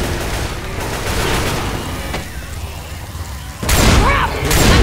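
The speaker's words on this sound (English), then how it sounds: "Grenade!" Grenade blast in Left 4 Dead 2 amid zombie combat, with a rumbling, gunfire-heavy background followed by a loud, sudden burst of explosive noise near the end.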